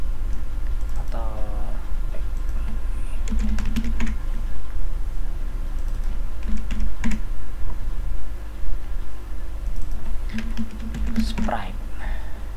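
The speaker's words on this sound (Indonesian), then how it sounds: "Kalau kita di sini kita bisa ketik background, mungkin kita enter" Computer keyboard typing while building an HTML5 game with the Phaser JavaScript library, a few scattered bursts of key clicks over steady background hiss, with a person talking quietly throughout.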